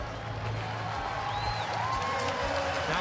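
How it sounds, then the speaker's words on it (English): Capacity crowd at a Phillies baseball game at home against Cincinnati, clapping and cheering as a batter is introduced, a broad distant wash of applause, fairly faint, with a whistle rising through it. "All these people that are clapping for him probably have trouble moving their fingers."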